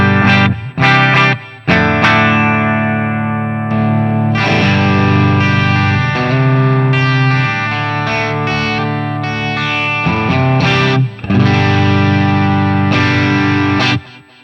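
Telecaster electric guitar played through its bridge pickup into a REVV Tilt Overdrive pedal, driven, distorted chords and sustained notes ringing out with a few short stabs and pauses, loud and unaccompanied, no voices.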